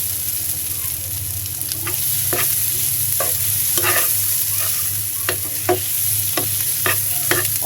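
Shrimp and grated coconut filling frying in a pan, a steady loud sizzle with occasional scraping stir strokes, and a low hum running underneath.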